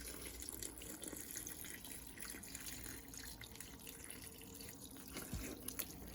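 Broth poured into cornbread dressing for a Thanksgiving recipe, a soft continuous liquid splashing and trickling heard close, steady throughout with a small knock near the end.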